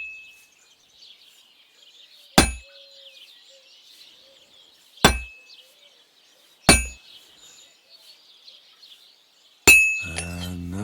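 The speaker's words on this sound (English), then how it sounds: "I have to hammer it more evenly." A hammer strikes metal at a forge in the video game Kingdom Come: Deliverance II, giving four loud, ringing clangs spaced a few seconds apart over faint birdsong, then a brief rising tone at the end.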